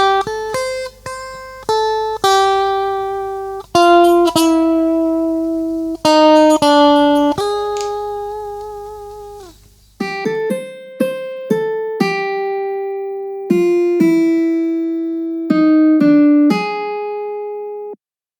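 A clean, bright tone plays a melodic phrase of sustained notes with sharp attacks, then continues with a longer, more separated run of notes alone.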